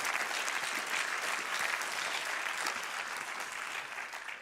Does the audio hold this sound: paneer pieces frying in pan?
no